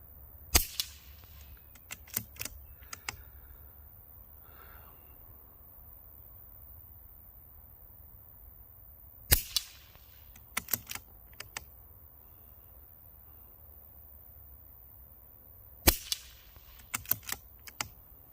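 A CZ rimfire rifle fires non-toxic ammunition outdoors at a target, with sharp cracks in short clusters separated by long quiet gaps and a little faint background noise.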